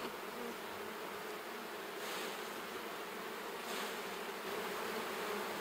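Honeybees swarm around a very full, open hive, giving a dense, steady buzz that holds close and fairly loud throughout, with slight swells midway and no voices.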